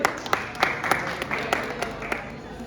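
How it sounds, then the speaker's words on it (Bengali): Clapping for a first-time blood donor after he receives his certificate, a scattered group of hands with distinct sharp claps over a low murmur of voices. "আরেকবার জোরে হাততালি।"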